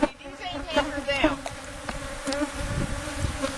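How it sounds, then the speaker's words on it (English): Honey bees swarm and hum inside an open beehive box during a hive inspection, a dense, continuous close-up buzz with individual bees droning past. "There are bees in the top box."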